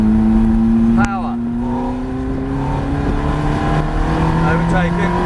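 A Ferrari F430 on a track drones and revs as it accelerates through a corner, engine pitch rising and shifting steadily, while an instructor's voice talks over it from inside the car.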